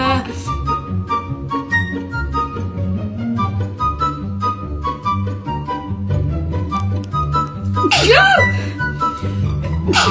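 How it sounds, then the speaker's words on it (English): A girl's sharp sneeze bursts out near the end of a COVID-19 nasal swab test, loud and close, following several seconds of music-like background sound. "I had to sneeze."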